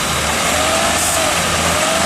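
A car engine runs close by at a steady idle while throttle body cleaner is sprayed in, a continuous low hum with slight shifts in revs as the throttle is feathered.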